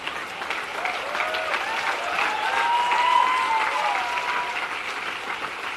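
Audience clapping at a Jain religious discourse during Paryushan, a sustained burst of applause from a seated crowd that swells and then fades slightly, with no talk over it.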